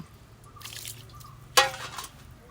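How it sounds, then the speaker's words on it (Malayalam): Rice water is poured into a compost bin, a brief liquid splash and trickle rising over a quiet background, close and alone. "നമുക്ക് കഞ്ഞിവെള്ളം ഒഴിച്ചു കൊടുക്കാം"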